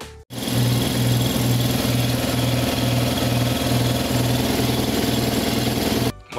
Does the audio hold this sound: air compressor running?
yes